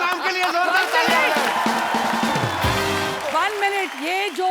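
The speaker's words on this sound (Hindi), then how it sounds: "और नाम के लिए जोरदार तालियां।" Studio audience applause on a comedy show, a loud burst of clapping and whoops from a crowd, with voices and laughter mixed in throughout.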